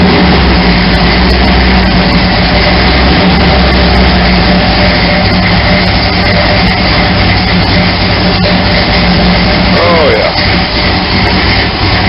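Engine of a prostreet Chevrolet S10 truck cranking and running, a loud, steady, unbroken drone that fills the whole stretch.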